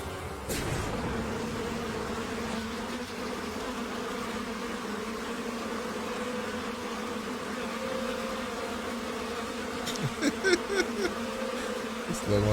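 Bees buzzing in a scene from the Smallville TV series, a dense continuous drone holding steady throughout, with a few sharper sounds near the end.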